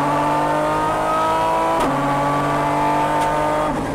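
Aston Martin DBR9 race car on track at Paul Ricard, engine droning loud and steady from onboard with a brief gear-change blip near the middle and another later, pitch holding fairly constant throughout.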